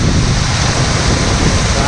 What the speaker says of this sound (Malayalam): എല്ലാ സ്ഥലത്തും റോട്ടിൽ നിന്ന് ഇങ്ങനെ നിർത്തിക്ക് വെള്ളച്ചാട്ടമാണ്.